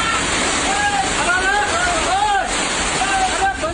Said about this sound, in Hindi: पानी सड़कों पर कुछ इस तरह बह चला मानो किसी ने नदी की धार